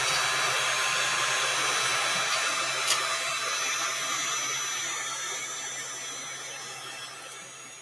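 A heat gun runs steadily as a loud, close, continuous broadband whoosh with a low hum, easing slightly quieter toward the end, with no talk.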